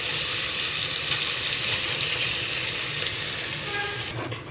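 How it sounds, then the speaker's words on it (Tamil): Ground masala paste frying in hot oil for mutton intestine curry (kudal kulambu), a steady, close, dense sizzle running throughout with no talk, easing slightly at the very end. "இந்த மசாலா பார்த்திங்கன்னா இது ஒரு ரெண்டு நிமிஷம் நல்லா எண்ணெயிலே வணங்கட்டும்"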